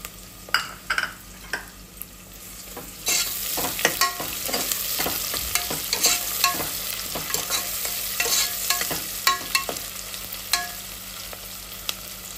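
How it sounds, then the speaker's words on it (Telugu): Onions fry in a pan with curry leaves and chilli in a crackling sizzle, broken by frequent sharp pops and stirring scrapes that grow busier partway through, close and without speech. "మంచిగా ఆనియన్ గోల్డ్ కలర్ వచ్చేదాకా వీటిని మంచిగా వేపుకోవాలి"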